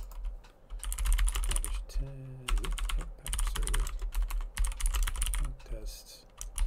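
Computer keyboard typing while writing code: rapid, continuous key clatter in quick bursts with short pauses, close and fairly loud, with someone speaking briefly in between.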